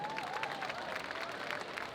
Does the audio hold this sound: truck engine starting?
no